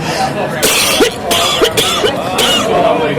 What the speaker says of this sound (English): pardon me for coughing